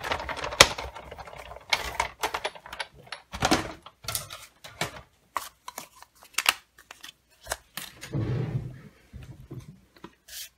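Scissors cut a stitched circle of cardstock for card making, giving crisp repeated snips in an irregular rhythm, close and clear in a quiet room.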